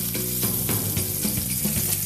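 Bacon fries in a pan with a loud, continuous sizzle and crackle, small pops scattered through it.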